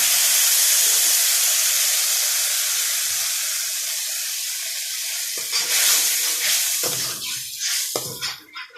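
Water poured into a hot pan of stir-fried noodles with tomato sauce and mixed vegetables gives a loud, steady steaming sizzle that fades slightly, then bursts of stirring and scraping near the end; no talking.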